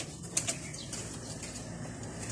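Racing pigeons released from their loft flap their wings in a couple of quick, faint bursts early on, followed by a quiet outdoor background.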